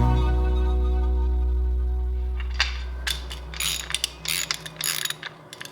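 Weed Eater XT600 string trimmer with a worn bearing, its motor spinning down from a steady whine, then scraping, grinding mechanical clicks and rattles in irregular bursts as it slows and is worked by hand, close-up.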